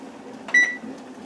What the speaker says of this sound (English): Right, the timer went off.